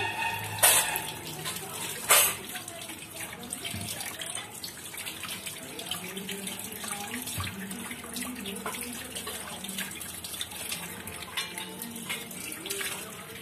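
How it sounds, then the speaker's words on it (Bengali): Tap water runs steadily into a sink while fish are being washed in a home kitchen, a continuous splashing hiss with a couple of louder knocks near the start. "মাছগুলো ধুয়ে নিচ্ছি।"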